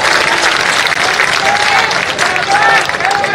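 Women in a large audience at a Dr. Bhimrao Ambedkar Jayanti event in Jaipur burst into loud, sustained applause, a dense wash of clapping throughout, with a few whistles rising over it.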